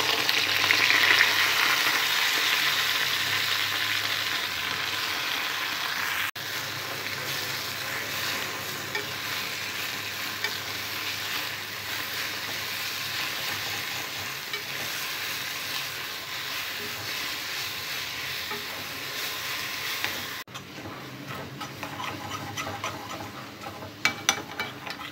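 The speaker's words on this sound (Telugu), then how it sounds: "పచ్చిమిరపకాయలు ఫ్రై చేసుకున్న ఇదే ఆయిల్లో గోంగూర వేసుకోవాలి." Gongura leaves fry in the same oil used for green chillies, producing a steady, moderately loud sizzle that continues for the full stretch, with faint stirring and a few small clatters near the end.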